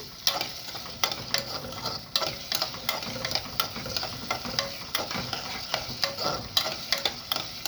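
Onions fry in a pan while a utensil stirs them, sharp regular scraping clicks about once a second over a low continuous sizzle, close up and without talk.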